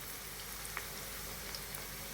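Steady, even sizzling hiss of raw banana chips frying in hot oil in a kadai, with a few faint crackles and pops over the constant frying noise.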